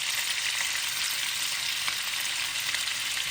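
Cumin seeds sizzle in hot oil and butter in a pan, a steady, dense crackling hiss that holds evenly for the whole stretch with no voices over it.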